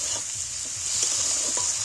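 Onions and chopped tomato fry in a pan, giving a steady close sizzle and hiss with a few soft stirring scrapes, with no talking.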